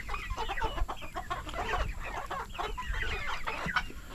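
A mixed backyard flock of hens, including Cream Legbar blue-egg layers, cluck and chatter in a continuous busy stream of short calls, close by with a faint crow-like call among them, and no talking.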